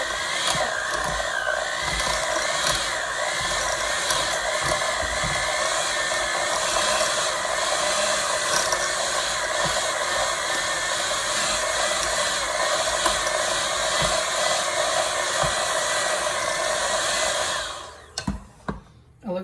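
An electric mixer whisking Turkish tulumba dough runs as a loud, continuous motorized whir with steady tone, then stops near the end with a few clattering knocks.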